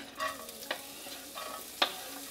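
Onions frying in a few tablespoons of sunflower oil over moderate heat, a soft steady sizzle broken by two sharp scraping stirs of a spatula in the pan, close and alone with no talking.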